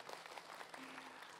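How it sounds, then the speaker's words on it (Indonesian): Studio audience clapping at an Islamic religious talk show, a dense steady patter of many hands lasting the full brief moment at moderate level with no speech. "Tepuk tangan dulu yuk."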